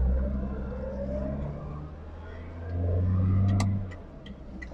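A Nissan Figaro car engine revs up and accelerates hard in drive, a low rising roar swelling midway and then easing off, with faint clicks near the end.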